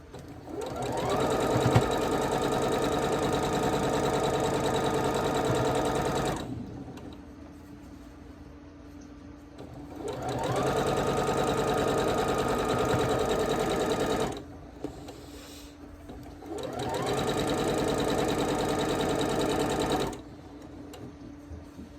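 A sewing machine stitching a quilt runs in three long loud bursts of fast, even whirring, separated by short pauses where it stops.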